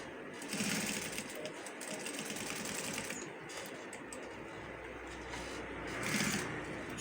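Sewing machine running steadily through fabric while a senator-style outfit pocket is sewn, a dense continuous mechanical whirr with slight surges, close and fairly loud, with no talking.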